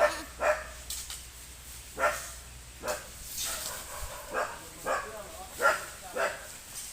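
A dog barks repeatedly outdoors during an effort to catch a python, sharp barks recurring roughly every second amid background noise and movement.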